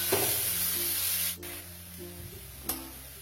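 Boiled, squeezed banana flower is stirred in a frying pan with a soft scraping rub over a gentle sizzle, close, with a couple of sharp knocks of the utensil against the pan.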